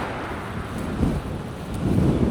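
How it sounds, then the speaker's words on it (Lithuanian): Wind buffets a microphone outdoors on a calm roadside in Italy, a steady low rumble with two stronger gusts swelling near the middle and end. No one speaks. "Visiška ramybė čia. Tik vėjas. Pučia tiesiai man."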